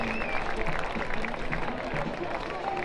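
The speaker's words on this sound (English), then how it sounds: "One more big round of applause for all those great athletes out there." Crowd applause for Special Olympics athletes at a halftime ceremony during a football match, a steady wash of clapping and cheering from a stadium audience under a public address announcer.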